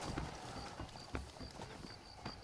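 Horse hooves clop in the PS3 western game Red Dead Redemption, a quiet, uneven run of soft thuds at a relaxed walking pace, with a faint repeating high tone behind them.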